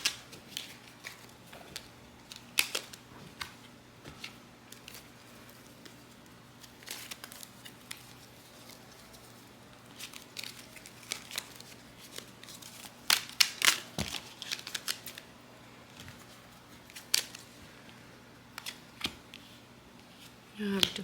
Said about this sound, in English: I'm going to get a couple more cards out here